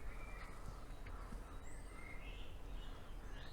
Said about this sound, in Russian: Еще птицы поют.